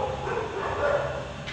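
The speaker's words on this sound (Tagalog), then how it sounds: "Ang ingay ng mga aso." Dogs bark and yip near a home, short strained yelps over a steady background hum, fairly faint and with no clear talking.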